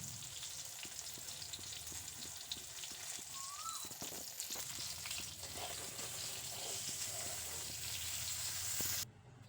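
Steady crackling sizzle of drumsticks (moringa pods) frying in hot oil, continuous and close, with a few faint clinks and no talking.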